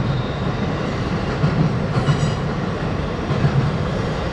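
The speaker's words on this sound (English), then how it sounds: "The train was rolling along fine" A Norfolk Southern freight train rolls past on the Port Road, a steady loud rumble of railcars with faint rhythmic wheel clatter and no voices.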